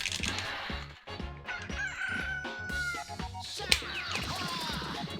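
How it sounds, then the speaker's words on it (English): Chicken clucks and crows in the Billy Hatcher video game, set against bouncy rhythmic game music and sound effects, with no talking. "Talk to the chicken."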